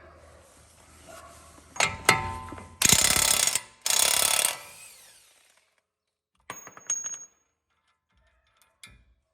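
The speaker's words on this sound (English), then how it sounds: "now you need to get the axle nut off, and that is going to be a 35 millimeter" A ratchet works the 35 mm axle nut on a 2011 Toyota Tacoma during a wheel bearing and hub job, with sharp bursts of loud clicking, then a pause and a few quieter clicks and clanks.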